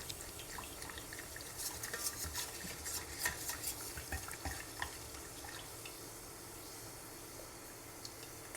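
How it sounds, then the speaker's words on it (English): Spoon stirring a cookie mixture in a pot, faint scraping and light clinks against the metal in an irregular rhythm over a quiet kitchen background. "Don't burn yourself while stirring."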